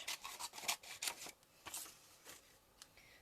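Scissors snip around the edge of a paper sunflower in a quick run of crisp, close cuts, some rustling of paper between snips, no voices.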